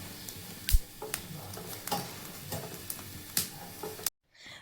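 Green chillies char and crackle on a grill mesh over an open flame, giving a steady low sizzle broken by sharp snaps and pops at irregular intervals, close by, ending abruptly.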